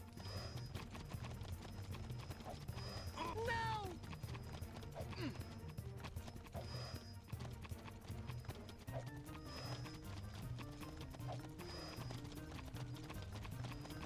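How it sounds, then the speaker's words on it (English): Footsteps in the Jak 3 video game, a steady clip-clop rhythm of repeated steps that runs throughout alongside game music and effects, with a brief creature cry and a whooshing sweep partway through. "I'm just lost in the sound of their footsteps."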